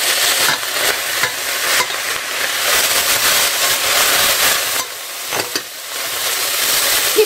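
Vegetables fry in olive oil in a pot for pork and beef goulash, a loud steady sizzle broken by scraping stirring strokes, close up and without speech.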